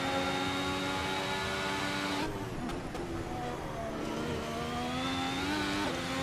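A Formula 1 race car engine in the F1 2017 game on a Monaco lap screams at high revs. It drops sharply on a downshift partway through, then builds again, loud and continuous with no talk.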